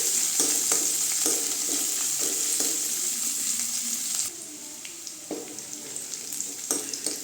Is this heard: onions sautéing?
yes